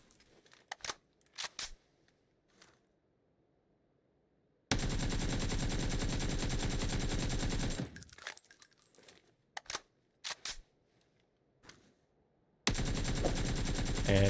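Automatic gunfire from the PUBG video game, heard in two loud sustained bursts of rapid shots with scattered single clicks and shots in between, close and with no voices.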